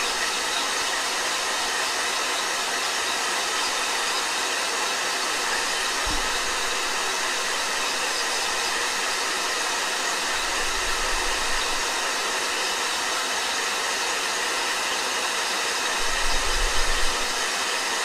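A blow dryer runs steadily and loudly throughout, a constant whooshing roar, likely drying a watercolor painting, with a couple of faint low thumps underneath.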